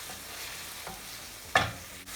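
Spiced shrimp with garlic, salt, black pepper and crushed cumin seeds being stirred in a pan: a low steady background hiss with a faint scrape near the middle and one sharp, louder scrape and clatter toward the end.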